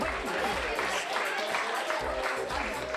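An audience at an art festival award ceremony in Dojran claps steadily, a sustained wash of applause with a speaking voice over it throughout.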